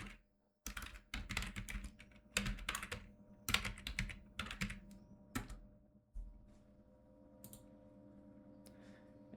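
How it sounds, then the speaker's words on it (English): Someone types on a computer keyboard, giving rapid clusters of close clicking keystrokes with short pauses, followed by quieter scattered taps and a low hum. "And let's type something here."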